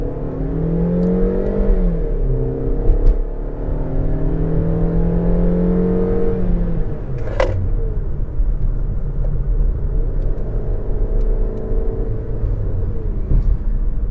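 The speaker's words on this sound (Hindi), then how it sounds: "Full throttle, let's go." A 2025 Maruti Victoris ZXI Plus 1.5 Smart Hybrid automatic accelerating at full throttle from inside the cabin, a steady loud engine drone with rising pitch, then a shift and continued sustained rumble.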